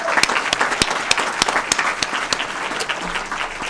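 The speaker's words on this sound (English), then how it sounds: "Let's give him a big round of applause." Scattered applause at a city council meeting for a judge in the room, a modest group clapping with distinct individual claps audible in an uneven rhythm before it thins out.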